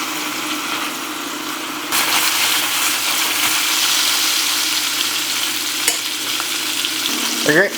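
Sausage meat meatballs browning in a frying pan, a loud, close, steady sizzle that swells slightly as it goes, with a faint background hum and no talk.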